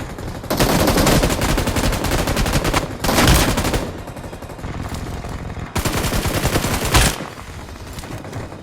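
Bursts of automatic gunfire from a mobile battle royale shooter game played on an iPad, loud and sustained, with dense rapid volleys that swell and ease over several seconds and no talk.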